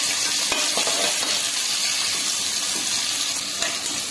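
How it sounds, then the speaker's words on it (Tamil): Onions fry in hot oil for sambar, giving a dense, even crackling hiss with a few faint clinks and taps on top, steady and close for the whole stretch without speech. "இந்த எண்ணெயிலேயே வெங்காயத்தை ஒரு 2 நிமிஷம் நல்லா நம்ம உள்ளே ஃப்ரை பண்ணிக்கலாங்க"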